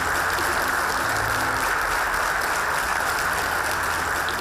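Sustained applause fills an electricity system reform ceremony in Chile, a thick, even wash of many hands clapping at a constant level from start to finish, with no voices rising above it.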